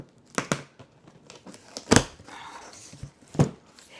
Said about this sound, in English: we're just going to cut all the tape off here